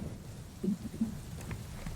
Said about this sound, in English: I am going to get out of the rain